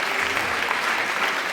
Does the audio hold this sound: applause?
yes